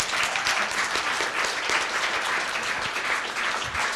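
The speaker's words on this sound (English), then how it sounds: "give yourselves a round of applause" Audience applause at a live event on making work accessible, a steady, dense clapping from a sizable crowd, moderately loud and continuous for a few seconds with no speech over it.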